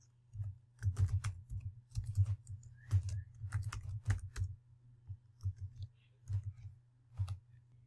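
Typing on a computer keyboard while entering settings in an Ansible setup, a close, quiet run of irregular key clicks in small clusters, with a steady low hum beneath and no talk.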